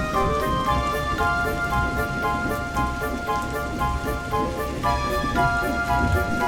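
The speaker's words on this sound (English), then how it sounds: "The rain beat in Percy's face." Heavy rain drumming steadily under a dense wash of sustained music, a constant hiss with no pauses.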